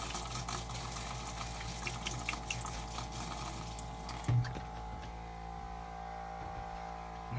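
Liquid poured into a washing machine during winterizing at a lakehouse, a steady close pour and gurgle for about four seconds that stops abruptly, leaving faint machine hum with a few small knocks.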